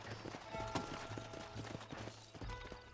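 Horses' hooves clip-clop over the ground in the Red Dead Redemption video game, a quick irregular patter of hoof strikes at moderate distance over a steady low rumble of game ambience.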